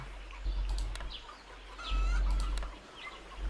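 Game audio of a chicken clucking: a few short clucks and squawks over a steady low hum, fairly close and clear, with no talking.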